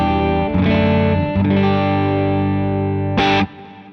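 An electric guitar strums sustained chords through a Black Eye Boost clean boost pedal, the amp pushed to the verge of breakup, giving a slightly gritty tone, followed by a quick muted scratch before it fades.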